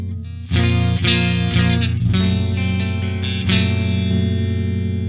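Sustained electric guitar chords, heavily processed with chorus, distortion and reverb, ringing out loud and full with a few fresh strums and shifts in tone.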